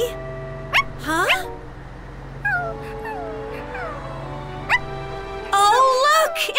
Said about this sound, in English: Oh, look! It's a puppy!